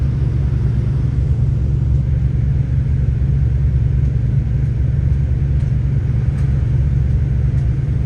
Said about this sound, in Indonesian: juga menggunakan armada truk besar seperti ini